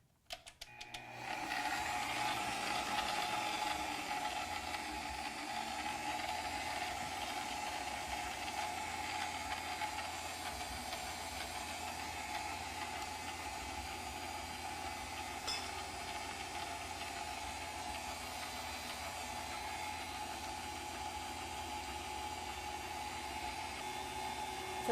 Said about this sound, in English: So we're going to turn the machine on.